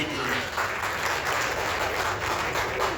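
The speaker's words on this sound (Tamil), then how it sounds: "இந்த கைத்தட்டல்கள் அனைத்தும் எழில் சாருக்கு தான் போய் சேரும்" A large audience applauds steadily, dense continuous clapping filling the space at full volume throughout.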